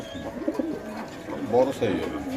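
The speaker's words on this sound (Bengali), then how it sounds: "এটা কিং কবুতর নাকি ভাই" King pigeons coo softly in low, throaty bursts amid faint background chatter, with a couple of louder coos near the end.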